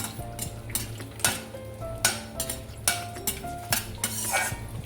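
Whole garam masala spices fry in butter while a metal spoon stirs and scrapes the pan in repeated clanking strokes, with a light sizzle underneath, close and distinct.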